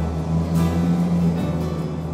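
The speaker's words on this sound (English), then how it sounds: "Sorry about the road noise." Steady low rumble of road traffic, a continuous broadband hum with a faint passing swell, no voices.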